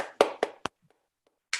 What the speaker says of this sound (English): I'll clap for everybody.